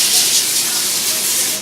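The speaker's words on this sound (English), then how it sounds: "take your pan, non-stick oil spray," Non-stick cooking oil sprays onto a pan being readied for chicken in a meal prep, a continuous close, bright hiss lasting under two seconds.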